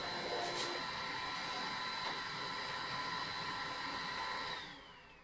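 An Epson F6370 44-inch sublimation printer runs steadily with a whirring, high-pitched mechanical drone while printing, then winds down and fades near the end.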